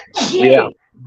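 One sharp human sneeze, close and fairly loud, with a brief voice right after it.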